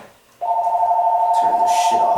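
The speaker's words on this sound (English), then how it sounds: "Excuse the phone." A telephone sounds with a loud, steady electronic tone that starts abruptly after a brief quiet moment and holds unbroken for about two seconds, with faint background noise around it.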